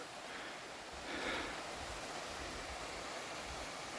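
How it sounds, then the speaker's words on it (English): A waterfall on the Appalachian Trail in Tennessee makes a steady, faint rushing wash heard from a distance, continuous and unbroken with no voices. "Down there we got another waterfall."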